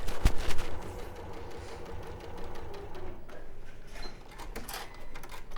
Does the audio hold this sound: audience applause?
no